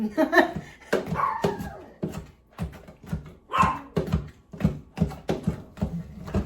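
A dog barks repeatedly at a mail carrier indoors, sharp close barks in an uneven run, with a person talking over and between them.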